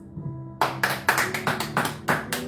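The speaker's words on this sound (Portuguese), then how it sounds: "Aplauda o Senhor, amados" A church congregation breaks into loud, rhythmic hand claps after a quiet moment, with about eight sharp, evenly spaced claps close by.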